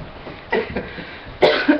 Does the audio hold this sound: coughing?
yes